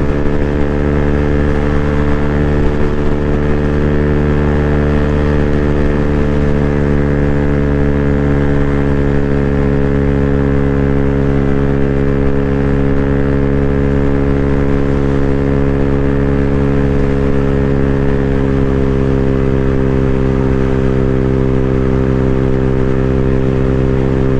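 A 2024 Freedom Fighter 200 EFI motorcycle engine drones steadily, loud and close, as a 256 lb rider accelerates hard through low gears, its strong harmonic whine holding high revs throughout with no talk.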